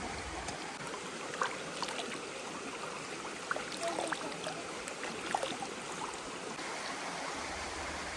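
A forest stream near Maredumilli resort cottages flows steadily with an even rushing wash, continuous and moderately close, broken only by a few faint clicks and bird notes.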